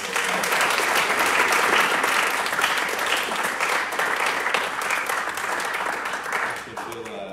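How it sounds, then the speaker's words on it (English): An audience at a church sermon gives a full, loud round of applause, sustained and dense throughout before easing off near the end. "I think we should give them a round of applause."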